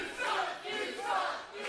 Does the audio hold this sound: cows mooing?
no